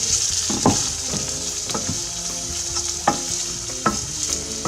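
Peppers and onions seasoned with paprika fry in a pan over medium heat, giving a steady close sizzle with several sharper clinks and scrapes of stirring, no voices.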